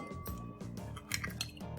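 Two eggs being cracked into a bowl for baking give a few light clinks and taps against the rim, faint and close, with soft wet squishes between them.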